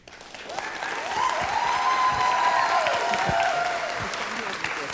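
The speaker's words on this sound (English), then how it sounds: "how about a big round of applause one more time for Dr. Nathalie Beauchamp?" Audience applause after a motivational talk on the 10x principle, a sustained round of clapping that swells and holds steady at close range, with faint voices mixed in.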